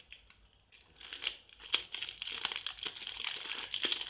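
A plastic AliExpress parcel package being opened, with close crinkling and crumpling of plastic that begins quietly and grows into steady rustling with sharper crackles.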